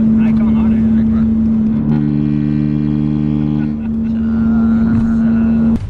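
A car engine revs hard with a steady, droning growl that swells loud for a couple of seconds before settling back to a rumbling idle, with voices in the background.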